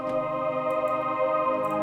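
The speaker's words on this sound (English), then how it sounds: "And then I introduce a choir here." A sustained choir synth preset from Nexus in FL Studio, part of a melodic house track, holds rich stacked harmonic chords with a soft airy shimmer, playing alone without speech.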